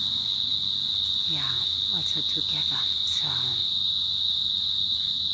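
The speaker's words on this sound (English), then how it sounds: "listen to all the cicadas coming on" Cicadas drone beside a water fountain outdoors, a loud, unbroken high-pitched hum that persists the whole time while a person speaks briefly over it.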